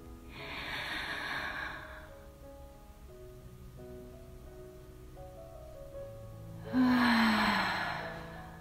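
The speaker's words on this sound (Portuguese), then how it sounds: "E todos se beneficiarão com essa luz do despertar, respirando profundamente." Deep breathing during a guided meditation, two slow audible breaths, a long inhale and later a louder exhale, soft and close over quiet ambient music.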